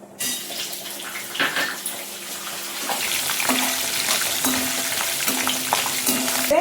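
Cashew nuts and sliced green chillies fry in hot oil, a steady crackling sizzle that builds and holds close by, with occasional clinks and stirring scrapes and no voices.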